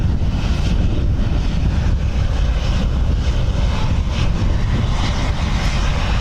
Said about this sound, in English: I've checked, both engines are still running there